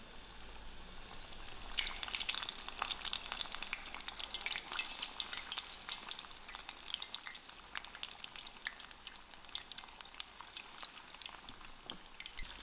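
Beer-battered hake frying in hot oil, a continuous crackling sizzle with dense spattering pops that swells as the fish goes in and stays steady throughout, fairly quiet and with no voices.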